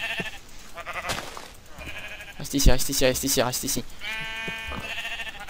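Sheep bleating in a survival video game, several wavering bleats rising over a French-speaking voice that talks through most of the moment.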